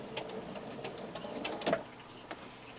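A domestic sewing machine runs a short, quiet locking stitch on fabric binding a quarter inch from the raw edges, producing soft rhythmic ticking needle strokes at low volume with no talking.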